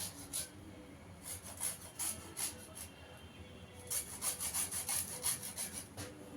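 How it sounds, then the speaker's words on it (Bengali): Gondhoraj lemon zest being carefully grated on a grater or rasp: quiet, rhythmic scraping strokes coming in close bursts, with short pauses between runs. "এখানে একটু গন্ধরাজ লেবুর জেসটা দিয়ে দেবো।"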